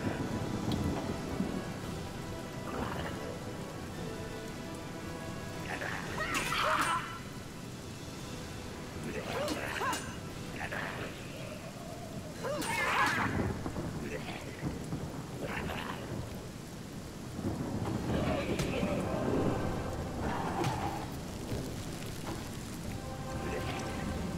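Rain with rolling thunder in the video game Divinity: Original Sin, several loud thunder crashes over a steady rain wash, with talk and game sounds mixed in.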